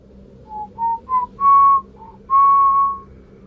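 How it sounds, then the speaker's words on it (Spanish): A series of clear, high whistled notes, short at first and then two longer held tones, rising and falling with a faintly eerie feel. "Y fue entonces cuando escuchamos un silbido"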